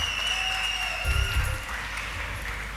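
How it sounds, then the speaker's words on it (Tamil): Applause from an audience at a company's 17th anniversary celebration, cheering the team. Steady, dense clapping runs throughout at moderate loudness, with a faint musical tone behind it and a brief low thump near the middle. "எல்லோரும் ஒரு சத்தமான ஒரு கரகோஷம் என்னோடய டீமுக்கு கொடுக்குற மாதிரி கேட்டுக்கொள்கிறேன்."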